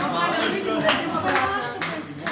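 Audience applause greeting a singer at an anniversary evening concert, a dense crowd clapping throughout under loud overlapping talk and cheering.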